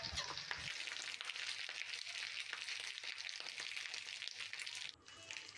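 Marinated crabs fry on a griddle in mustard oil, a close, dense, continuous sizzle and spatter that holds steady throughout and eases slightly near the end, with no voices.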